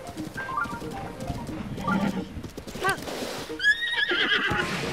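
A horse in The Legend of Zelda: Breath of the Wild whinnies in sharp bursts over clip-clopping hooves, moderately close, while someone speaks.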